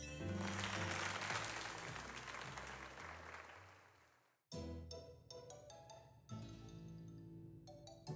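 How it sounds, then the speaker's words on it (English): Applause sound effect in the Pokemon Legends Z-A video game, a burst of clapping that fades out over several seconds, followed by bright game jingle tones and music. "let us give another heartfelt round of applause to Tristan."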